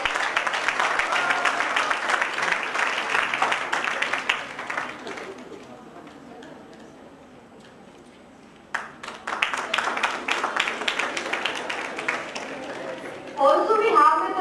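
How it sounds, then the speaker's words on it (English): Students at a commerce and management conference applaud to welcome a guest speaker: a thick burst of many hands clapping that fades to quiet, then scattered, sharper claps return alongside voices in the hall. "Can we welcome them with a round of applause, students?"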